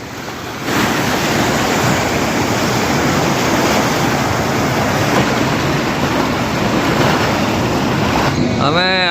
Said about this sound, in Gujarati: ઓલી બાજુ મોજા આવે એ બતાવો